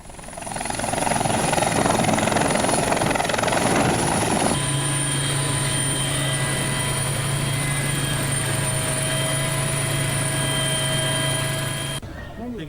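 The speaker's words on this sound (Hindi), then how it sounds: "जगह जगह फूलों की बारिश के बाद हेलीकॉप्टर को पुलिस लाइन्स में उतारा गया" A helicopter flies and lands at police lines after a flower-showering flight. Its rotor and engine drone is steady and loud, the pitch shifts partway through, and faint voices may sit underneath before the noise drops near the end.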